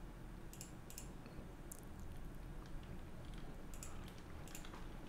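A computer keyboard is typed on in short, scattered bursts of faint clicks with pauses between, quiet and close over a low steady hum.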